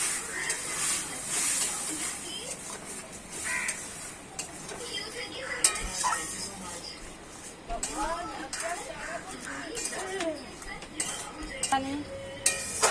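Taro stems being stirred with a little water in a cooking pan: a run of scraping and clattering utensil-on-metal sounds with a light steamy hiss, close by, while a voice talks over it.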